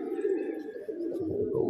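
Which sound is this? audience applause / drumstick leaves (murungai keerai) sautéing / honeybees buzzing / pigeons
pigeons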